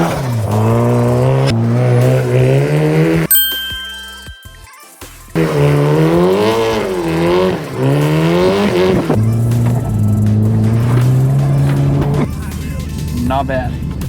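A car is driven hard around a parking lot on a closed course, its engine rising and falling in loud revving sweeps with bursts of tire squeal, continuous and close throughout.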